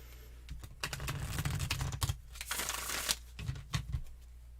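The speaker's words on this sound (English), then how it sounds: "I feel like I need to give these cards a really good shuffle for a minute." A deck of tarot cards is shuffled close up in quick riffling bursts, crisp papery flutters broken by short pauses and soft taps, with no voices.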